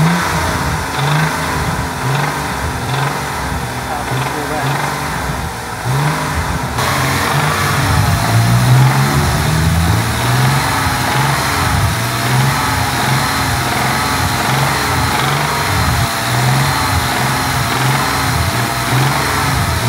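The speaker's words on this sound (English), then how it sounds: "When we're in stationary, we'll give it a rev, we'll have a listen to it" A BMW M135i, bought at auction, revs while stationary, its engine rising and falling in repeated blips over a steady idle. The sound is loud and close throughout, with no talking.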